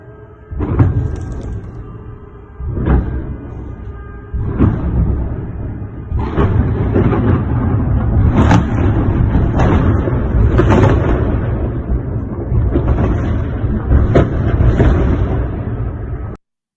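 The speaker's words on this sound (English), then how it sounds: "you can hear some shelling in the background." Shelling in Belgorod, a series of heavy booming blasts, about a dozen over the span, some close and loud, others more distant, spaced irregularly over a rumbling background with no speech.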